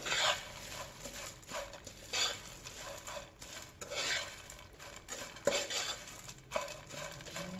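Barley shrimp stir-fried in a pan are stirred with a metal utensil, giving repeated close scraping and clinking against the pan in an irregular rhythm, with no talk.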